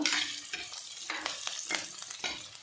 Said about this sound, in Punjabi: ਥੋੜੀ ਜਿਹੀ ਅਸੀਂ ਪਿਆਜ਼ ਭੁੰਨਦੇ ਆਏ